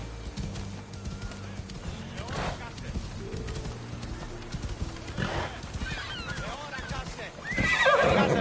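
In Assassin's Creed Odyssey, a horse gives several loud whinnies while its hooves clip-clop at a steady pace, set against a low game soundscape, and a voice speaks briefly.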